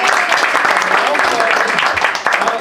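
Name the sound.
round of applause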